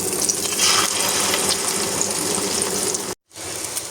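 An egg fries in oil in a pan, giving a steady loud hiss and crackle that breaks off suddenly for a moment near the end and then resumes.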